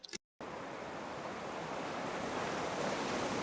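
Sea waves washing steadily onto the shore, a continuous broadband roar with some wind noise, heard alone after a brief silent gap.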